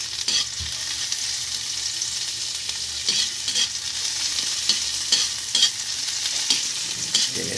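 Bitter gourd, onion and tomato sizzle in a hot pan as a utensil stirs them, with a steady close frying hiss and occasional scraping clinks.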